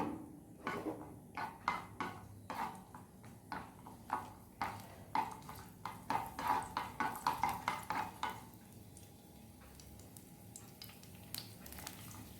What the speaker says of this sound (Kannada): ಬೆಳ್ಳುಳ್ಳಿ ಫ್ರೈ ಆಗಿದೆ ಸ್ವಲ್ಪ.